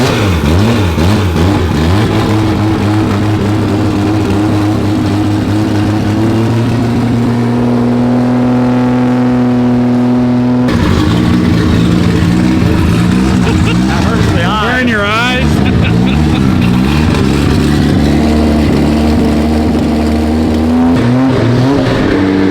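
A 1000-horsepower 2JZ engine runs loud and steady through its first start-up, its deep idle swelling into repeated revs and a sustained high drone, with voices talking over it.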